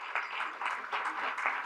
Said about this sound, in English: Give yourselves that round of applause.